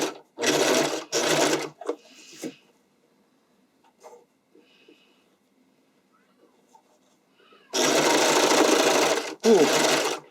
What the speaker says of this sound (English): I'm serging with a fairly wide width and a longish stitch